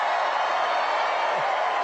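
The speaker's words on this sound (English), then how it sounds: "What a nice crowd this is." A large crowd at a Trump campaign rally in Greensboro, North Carolina, makes a steady, dense roar of cheering and noise that holds at the same level throughout.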